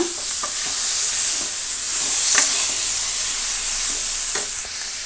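Ridge gourd palya with onion fries in a pan with a steady loud hiss and sizzle, and a few soft scrapes of a spatula stirring through it.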